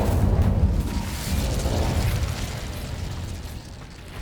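A Confringo blasting spell explodes in Hogwarts Legacy with a loud, deep booming burst that rolls on as a rumbling roar for about four seconds, easing slightly in loudness toward the end.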